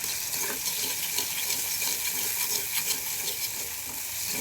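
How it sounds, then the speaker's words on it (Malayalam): Tomatoes sauté in a hot pan for a mackerel curry, giving a steady close sizzle and hiss with faint stirring throughout and no talking. "ഇപ്പോൾ തക്കാളി ചേർത്ത് നന്നായി വഴറ്റിയെടുക്കണം."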